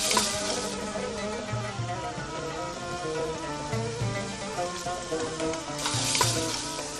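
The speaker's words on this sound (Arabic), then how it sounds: "اللحم العلوش خليه يتقلى حتى لين ياخذ اللون" Lamb meat fries in a pan with a steady close sizzle, stirred now and then, with brief louder bursts of crackling.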